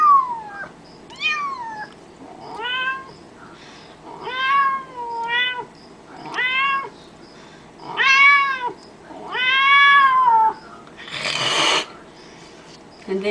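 Vocal imitation of kittens by a woman: a string of about eight short, rising and falling mews, each separated by a brief pause, close to the mic, with a breathy hiss near the end.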